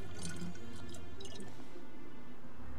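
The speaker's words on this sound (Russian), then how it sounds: "давай быстрее наливай фляжку" Water trickles and gurgles into a flask in the game DayZ, a short run of liquid pouring with drip-like splashes, moderately close and quiet, with no talk over it.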